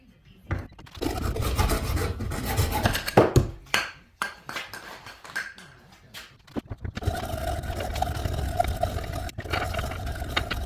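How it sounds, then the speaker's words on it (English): A hand file rasps along the top edge of a pepper spray holder for a mountain bike, beveling it in close, uneven bursts of scraping strokes with brief pauses between. "I think I'm going to bevel this, the top part, just so that I can get the can in out easier."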